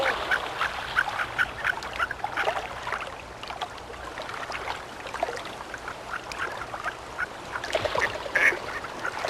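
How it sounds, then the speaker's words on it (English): Harlequin ducks, small hardy saltwater sea ducks, give a steady run of squeaky calls and quacks near rushing water in a mountain setting, with no talking. "the gaily feathered male harlequin duck"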